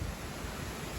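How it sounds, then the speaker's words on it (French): A strong gust of wind before thunderstorms roars as a steady, broad rush of noise with low buffeting rumble against the microphone, faint and uninterrupted. "Voilà, forte rafale."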